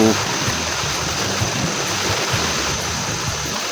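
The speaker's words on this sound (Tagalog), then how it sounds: "Bandawan po natin ng malinaw na tubig" Clear water rinsed over celery plants on a highland farm, washing off the chicken manure fertilizer from the leaves: a steady, close hiss of spraying water that holds even throughout.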